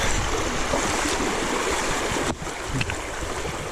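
Flowing stream water rushes steadily and loudly at Sespe as someone walks through it outdoors, with a continuous broadband wash and a brief shift partway through.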